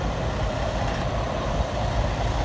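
A flat top Peterbilt semi truck hauling food grade products maneuvers nearby, producing a steady broadband engine rumble mixed with wind noise and no clear breaks.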